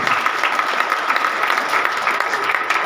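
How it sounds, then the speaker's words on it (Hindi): Congregation applauding during a Sunday worship service, dense steady clapping from many hands throughout, loud and close. "तो जोरदार ताली बजाते हुए"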